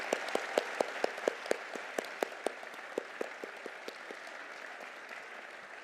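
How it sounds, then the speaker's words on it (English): A law school commencement audience claps, sharp individual hand claps standing out over a softer wash of applause that gradually thins and fades toward the end. "So please, I ask you to give President Armacost a round of applause today."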